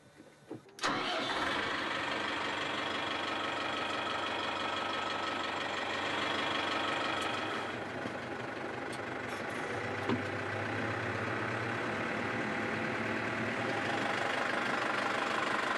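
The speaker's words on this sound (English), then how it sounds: "These tractors here, the bigger ones are 100 horsepower." A 100-horsepower farm tractor engine on a Manx farm starts with a sharp catch, then settles into a steady, loud idle that runs on with a slight dip and rise in level.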